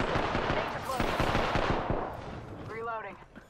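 Rapid automatic gunfire in Apex Legends, a loud burst of close shots firing in quick succession, then tapering off into scattered echoing reports and a short tonal effect near the end.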